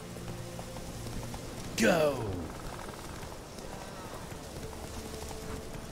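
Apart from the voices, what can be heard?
horse hooves clip-clopping in video game Witcher 3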